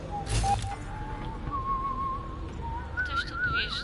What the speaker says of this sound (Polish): Ktoś tu gwizdże mi.